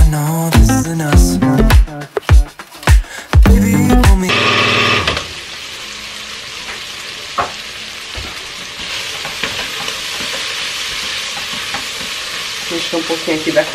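Calabresa sausage and bacon frying in a pan for caldo verde, a steady sizzle that swells after a burst of music at the start and runs on alone, with faint clinks of stirring.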